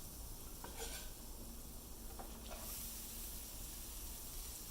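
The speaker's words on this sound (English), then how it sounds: "And then I'm going to throw in my onion first" Onion dropped into a hot pan, giving a faint, soft sizzle and hiss with a few light metallic clinks of pan and utensil, quiet and close.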